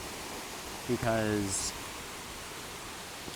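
Lanka Ella waterfall in Sri Lanka: a steady, broad rush of falling water, fairly faint and constant, with a voice briefly speaking over it and a short chirp partway through.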